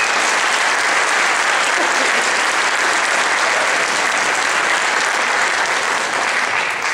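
A loud, continuous round of applause from the audience at the West Haven High School Christmas concert in 2016, many hands clapping evenly for about seven seconds.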